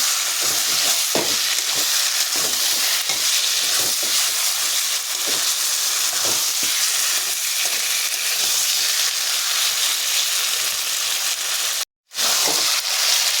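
Chicken fries in a pan with a loud, continuous sizzle, and a spatula stirs it in regular scraping strokes throughout, with one brief dropout near the end.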